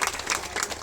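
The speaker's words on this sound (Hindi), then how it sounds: "जोरदार तालियां" Loud applause from an audience at the inauguration ceremony for the Annapurna Gaushala cow shelter in Calicut, with clapping surging in several short waves over a brief moment.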